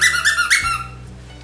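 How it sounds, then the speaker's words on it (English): A squeaker inside a worn dog toy gives several loud, high squeaks in quick succession, then trails off into quiet. "and it squeaks, so that is a really good toy for Roxy"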